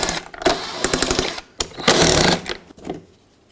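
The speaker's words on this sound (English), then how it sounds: "take a T25 Torx bit and remove the 3 mounting screws that hold this onto the bumper" A power driver with a T25 Torx bit backing out the fog light mounting screws on the bumper of a 2001-2007 Volvo V70, a few short loud whirring bursts separated by brief pauses, close up.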